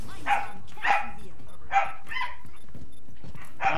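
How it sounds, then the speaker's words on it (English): Dogs barking in short, loud bursts at irregular intervals, several sharp barks close by over a low background with faint game sounds between. "What's up with the dogs?"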